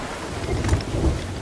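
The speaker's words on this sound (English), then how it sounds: "Ah, there's a storm." A thunderstorm at sea in the video game Sea of Thieves: steady rain hiss with low rumbling thunder swells, moderately loud and continuous, without speech.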